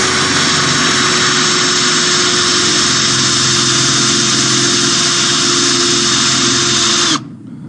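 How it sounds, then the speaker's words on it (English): Electric power drill runs continuously for about seven seconds while drilling a hole, a loud steady high-pitched whine that stops abruptly, leaving a faint tail. "All right, let's drill."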